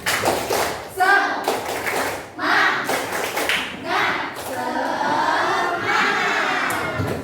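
Classroom of students doing a rhythmic spirit clap: bursts of sharp clapping in quick patterns, mixed with children's voices chanting and calling out together, close and lively.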